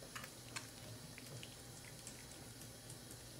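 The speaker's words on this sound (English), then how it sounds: "rinse this off my face" Tap water running during a late-night face-rinsing skincare routine: a steady, faint broadband rush of flowing water with a few soft splashes, no talking.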